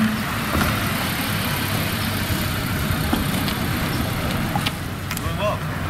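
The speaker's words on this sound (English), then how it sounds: "Looks like we got another car leaving the property here." A car drives off a property on a quiet street, its engine a steady mid-range hum that stays fairly close and constant throughout, with faint background sounds and no clear speech.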